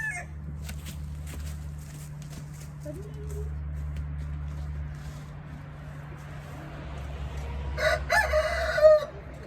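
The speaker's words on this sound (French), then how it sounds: "où on a 2 nouveaux coqs en fait pour changer le sang" Chickens and a rooster call faintly across a yard over a steady low hum, with a louder burst of clucking near the end.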